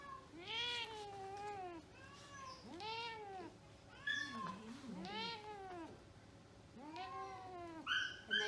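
A cat at the vet during a catheter procedure meows again and again, close and clear, with drawn-out, wavering cries spaced by short pauses.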